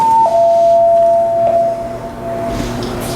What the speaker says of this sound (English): So let's ring the bell, say hello to somebody